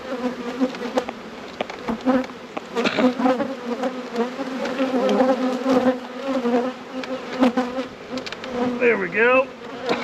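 Honey bees buzz in a dense, continuous swarm around an opened hive during a deep inspection after winter, close and steady with sharper passes of individual bees flying near, and someone speaks briefly.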